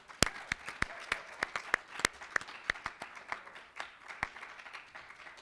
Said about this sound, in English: I just want to give a round of applause to Greek life in general